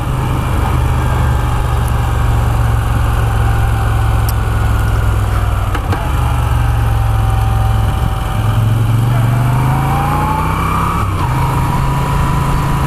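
A stock Moto Guzzi V7 III Special, an 850 cc V-twin, is ridden along tiny roads, its engine a loud, continuous low throb close up that swells briefly as it revs, with wind rush over the top.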